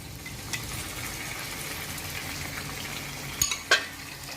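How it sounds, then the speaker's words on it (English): Prawn stock going into frying sambal in a pan, a steady close sizzle and bubbling with a couple of sharp spoon-on-pan clinks near the end. "I'm going to add about 3 big spoons of the prawn"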